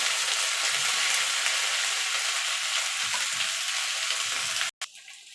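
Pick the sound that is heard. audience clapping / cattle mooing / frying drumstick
frying drumstick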